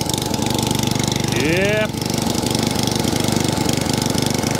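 A petrol engine on a cylinder lawn mower runs steadily, then settles to a loud, close, even idle while someone briefly speaks over it.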